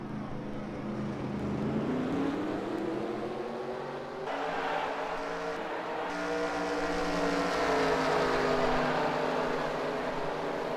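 A pack of race cars rolls off on a pace lap at Vernon in the SCRL Grand National Series, a steady, sustained engine drone whose pitch rises and sweeps smoothly as the field accelerates together, with no voices over it.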